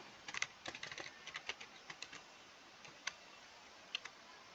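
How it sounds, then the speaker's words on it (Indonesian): Someone types on a computer keyboard, giving a quick burst of light close key clicks followed by a few slower scattered taps, quiet against low room hiss, with no voices. "kita ketikkan with plots pada lembar kerja"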